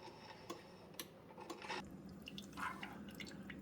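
A Farberware single-serve coffee maker brews through a reusable K-Cup, giving soft irregular drips and ticking taps over a low steady hiss, close by and quiet.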